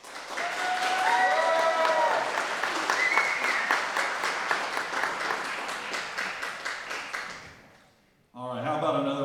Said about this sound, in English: how about another round of applause for this group of candidates here?